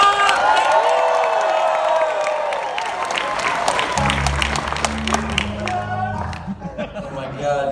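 An audience at an improv puppet show at Knott's Scary Farm breaks into loud applause and cheering with whoops, a dense burst of clapping that carries on under a performer's voice.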